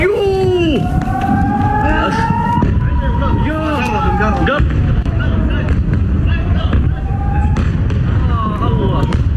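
A wailing air raid warning siren in Israel during an Iranian missile attack rises and falls repeatedly over a noisy background of crowd babble and scattered bangs.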